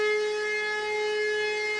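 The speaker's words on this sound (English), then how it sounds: "it's warning sirens" Warning sirens wail in an animated Warhammer 40K battle scene set in Helsreach, one steady sustained tone filling the whole short stretch with no voices over it.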